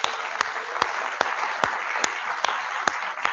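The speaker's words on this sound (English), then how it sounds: "So let's give the CTC students a round of applause." An audience at a birding presentation on the great blue heron applauds volunteering CTC students, a steady wash of clapping from many hands with a few sharper individual claps popping out.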